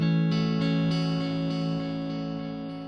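A sustained distorted guitar tone from an OTO Bim delay pedal with distortion in its feedback loop, repeating delay echoes, gritty and layered, slowly fading over a few seconds.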